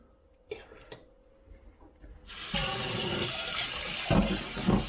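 A cooking pot rinsed out under a running tap, a few quiet clinks first, then a loud steady gush of water splashing into the pot and sink.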